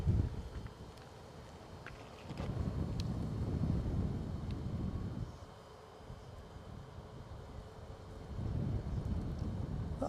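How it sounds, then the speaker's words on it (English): Wind gusts at Edinburgh Airport buffet the microphone in loud, low rumbling surges, rising and falling over several seconds, with brief lulls between gusts. "That wind is just picking up a bit."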